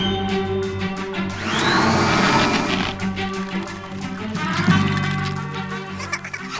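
Cartoon vacuum ray sucking sound effect: a whooshing, whirring suction with rising and falling sweeps, moderately loud and continuous, mixed with a musical background.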